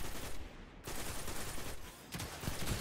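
Auto rifle gunfire in a video game, rapid continuous bursts of shots in dense loud volleys with brief pauses between strings, close and alone without talk.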